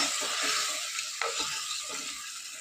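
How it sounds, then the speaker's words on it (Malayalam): Pickle gravy made with vinegar for a rose apple (chambakka) pickle bubbles in a pan with a steady, fizzy sizzle and a few soft stirring clicks, close up with no voices. "ഗ്രേവിയൊക്കെ നന്നായിട്ട് തിളച്ച് വരാൻ തുടങ്ങിയിട്ടുണ്ട്"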